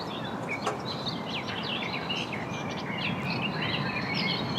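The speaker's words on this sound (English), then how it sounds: "We've heard the birds tweeting." Several birds chirp and tweet in short, scattered calls over a steady, broad outdoor hum at a golf course, with no talking.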